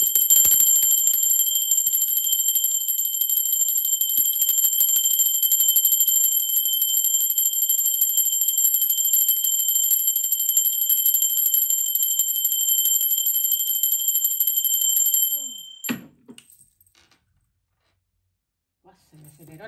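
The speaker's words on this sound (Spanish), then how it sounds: "Va campana." A bell rings steadily as one bright, sustained metallic tone with a shimmering overtone that holds for about fifteen seconds before cutting off abruptly, followed by near silence.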